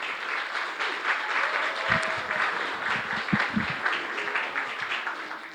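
A church congregation at a year-end worship service applauds to welcome an arriving family, giving a steady, even wash of clapping from many hands with a few low thumps and murmurs underneath.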